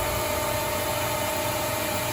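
A CNC lathe spindle runs with a steady machine hum, constant tone and broadband hiss, running evenly and continuously without change, while cutting 304 stainless steel.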